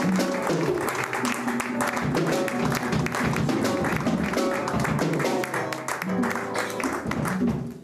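At a night worship gathering, a church congregation welcomes the pastor with continuous clapping and cheering over loud music, keeping a busy, even level throughout.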